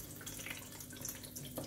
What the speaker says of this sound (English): You see there's some water that leaks out.